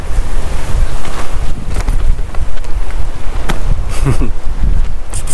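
Loud, roaring wind of 80 mph gusts at 9,000 feet on Guadalupe Peak, Texas, buffets the microphone continuously, with heavy low rumble and surging gusts and no voices.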